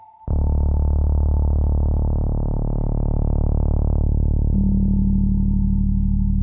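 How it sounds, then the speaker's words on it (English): A low, sustained synth bass note drones alongside a steady sine tone, with a second pure tone entering late, loud and unbroken. "immediately you're gonna hear the bass note sort of interacting with that sine wave"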